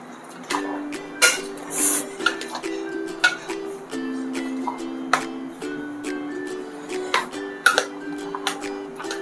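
Potato chana chaat being stirred with chutney in a bowl, a steady run of light spoon-on-bowl taps and clinks close up, over faint background music.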